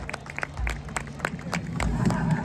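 Scattered crowd clapping and cheering for the Queens borough president at an outdoor St. Patrick's Day parade in Queens, with sharp individual claps under a busy background of voices.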